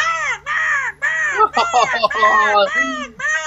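A person vocally imitates a crow's cawing in a tabletop role-playing game session, giving several loud, nasal caws in a row with short gaps between them, close to the microphone.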